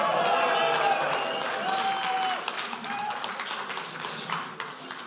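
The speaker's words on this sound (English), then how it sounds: "Oh, you're still clapping." Applause from an audience at a leadership talk, a dense, loud round of clapping that slowly thins out, with a voice speaking over it.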